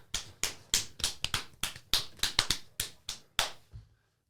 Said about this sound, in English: I clap like Heath Ledger's Joker